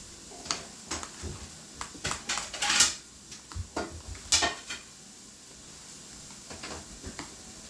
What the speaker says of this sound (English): Let's mix this up before I decide to add more.